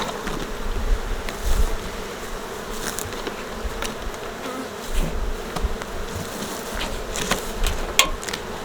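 Honeybees buzzing at a hive while being fed a VitaBee supplement, a dense steady drone with occasional close insects flitting by and light handling knocks, no speech.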